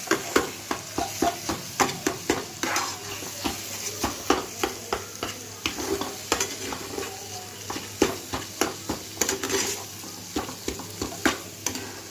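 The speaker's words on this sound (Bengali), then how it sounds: "আমি প্রত্যেকটা জিনিস ভালো করে কষিয়ে নিচ্ছি" Ingredients for a stuffed pointed-gourd and chhana dish frying in a pan, steady sizzle under rhythmic spatula strokes scraping and tapping the pan roughly once a second, close and clear, with no talk.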